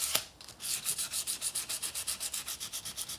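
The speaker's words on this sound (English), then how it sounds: "Sanding it this way smooths it out so that the strings slide very easily and smoothly without extraneous noises." Guitar surface on a 1953 Les Paul Standard being sanded with 600 grit sandpaper, a steady run of rapid back-and-forth rubbing strokes, close and even, after a brief initial scrape.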